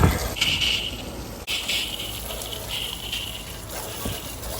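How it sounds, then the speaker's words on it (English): A garden hose sprays water steadily to rinse a filthy, long-neglected HVAC coil, a broad continuous gush that holds loud and close for the whole stretch, with brief surges and one short break near the start. "I'm gonna start by hosing this down. Get this thing rinsed."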